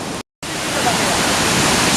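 Triberg waterfall in Germany's Black Forest, seen from the topmost reachable point on a rainy day, roars as a loud, steady broadband rush that cuts out for a brief moment and then resumes.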